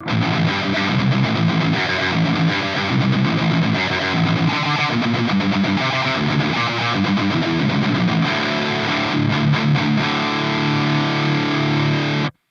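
Electric guitar on the neck pickup played through a REVV G4 distortion pedal, a loud, heavily saturated high-gain tone with chugging riffs and sustained chords, alone without talk, ending abruptly.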